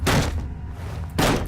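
A hammer smashes wooden boxes in Penumbra: Overture, two loud, hollow thumping hits with a splintering crack, about a second apart, close and with no voices.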